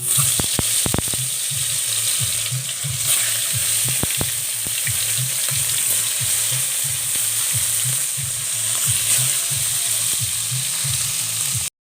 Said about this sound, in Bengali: এখন মাছ দিয়ে দিব তেলের ভিতরে